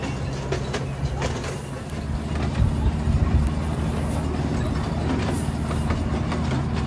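A toy train ride in a leafy park, with a continuous rumbling rattle of the small train's wheels and cars rolling steadily and a breezy roar throughout, heard up close.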